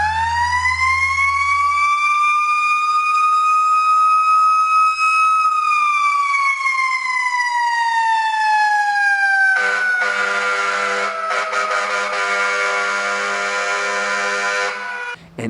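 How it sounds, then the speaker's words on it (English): Loud fire truck siren wailing up and down in long sweeping tones, then switching to a harsher rapid electronic yelp, heard alone and close for about fifteen seconds. "We're going to have the sirens going."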